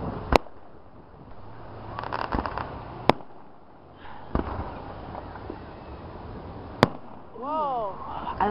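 Several sharp firework bangs go off at intervals, some distant and some close, over crowd murmur and brief voices, at a Santa Claus Day fireworks display.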